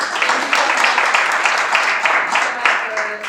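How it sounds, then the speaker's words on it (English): An audience gives presenters a round of applause at a mental health awareness education session, a steady patter of many hands clapping at moderate loudness while a voice speaks over it. "let's give our presenters, including Ken, a round of applause"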